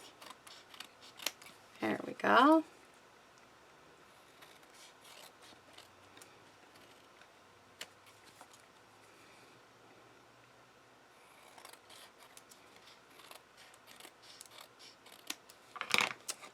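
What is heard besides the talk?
scissors cutting paper card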